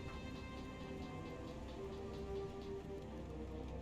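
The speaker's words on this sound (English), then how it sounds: "the rain kicked in hardcore just now." Heavy rain falls steadily outdoors during a thunderstorm, a dense continuous hiss of drops with scattered ticking patters, soft and unbroken throughout.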